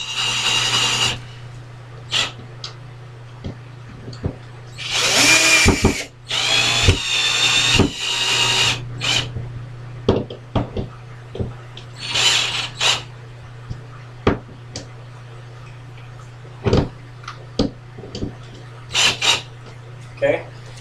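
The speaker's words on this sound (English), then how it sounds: "take your drill, make sure it's going the proper way to tighten them in" A power drill drives screws into a towel ring mount in short bursts, with a couple of longer whirring runs and brief taps between, while a steady low hum sits underneath; no voice is heard.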